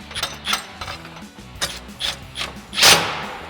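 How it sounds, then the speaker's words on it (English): A ratchet with a 10mm socket snugs down the fog light bracket hardware on a 2019-2024 RAM 2500. It gives several short, close bursts of clicking, and the last and loudest comes near the end. "we'll fully tighten them down. Again with our 10mm socket"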